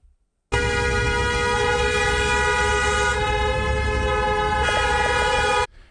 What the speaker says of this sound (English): these people, they're honking in solidarity, blocking traffic, stopping the flow of traffic